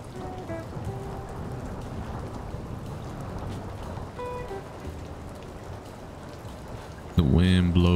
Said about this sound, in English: The rain hits harder.